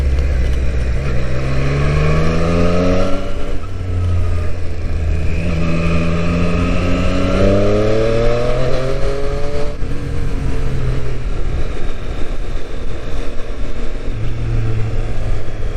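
A 2019 Triumph Street Triple RS motorcycle engine rises and falls loudly and close as it is ridden, revving up through several gear changes, with no talk over it.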